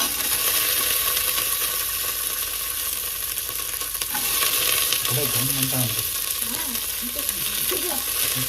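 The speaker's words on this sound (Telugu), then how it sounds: "అల్లం తెల్లగడ్డ వేస్తేనే బాగా ఫ్రై చేసుకున్నాను." Ginger and garlic frying in oil for a mutton curry, making a loud, constant close sizzle with brief scraping stirs, and a faint voice murmuring in the background toward the end.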